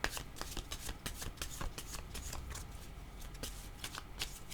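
A deck of cards being shuffled for a card reading, heard close and soft as a rapid flutter of papery riffles repeating steadily throughout.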